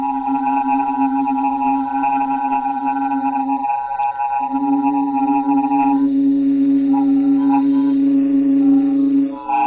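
A sustained, buzzy synthesizer tone from the Typhoon spectral clouds algorithm, with gritty distortion added, holds steady, briefly dipping before returning, with faint clicks scattered on top.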